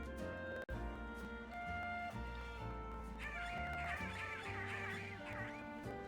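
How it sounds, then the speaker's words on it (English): Squawkabilly birds squabble on rooftops in a Pokémon video game, with repeated squawking calls layered over game music and background tones, the bird cries rising and overlapping in the middle of the passage. "The Squawkabilly on the roofs, always squabbling."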